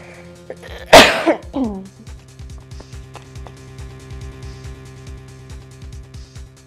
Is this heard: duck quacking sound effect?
no